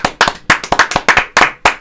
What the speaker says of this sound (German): Einmal Applaus für Ali.